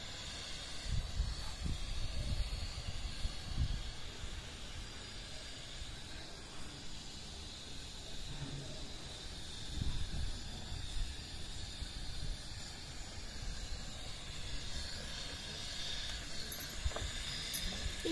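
Steady sizzling hiss of wheat flour dosa batter cooking on an oiled pan, a continuous close crackle with slight swells and no voices.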